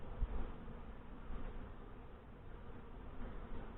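Saskatraz honey bees swarm around an open hive during an inspection, giving a soft, steady buzzing drone throughout, faint and continuous with no talk.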